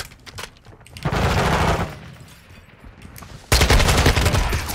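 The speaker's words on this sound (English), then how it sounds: "The guns feel very beefy." Modern Warfare 2 beta gunfire, with rapid automatic bursts loud and close, one sustained burst in the middle, then a heavier burst near the end, separated by quieter gaps.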